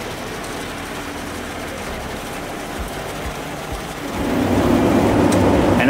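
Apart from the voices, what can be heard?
Heizohack woodchipper chipping wood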